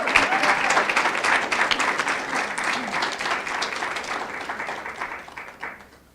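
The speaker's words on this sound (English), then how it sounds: "hear some applause for really outstanding officers" Applause for outstanding officers at a Pi Theta Epsilon induction ceremony, a full burst of crowd clapping that stays strong, thins gradually and fades out at the close.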